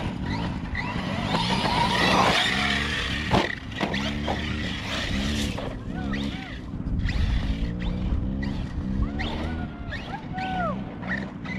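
An Arrma Notorious 6s RC car being bashed outdoors, its electric motor whining and buzzing in revving bursts with scrapes, thumps and squealing tires, close and busy throughout.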